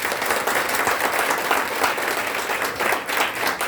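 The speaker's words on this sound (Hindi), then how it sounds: "तो ताली तो बजती है एक बार" An audience at a sales meeting bursts into steady, dense applause, many hands clapping together close by with no break.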